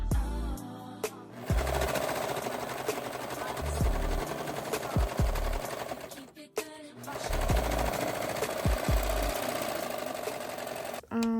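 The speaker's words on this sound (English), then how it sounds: "this is me serging" An overlock serger with a fault that keeps tripping runs steadily while finishing the edges of mesh prom-dress fabric. It makes two long, dense whirring bursts with a brief pause between them, close and loud, and no one speaks over it.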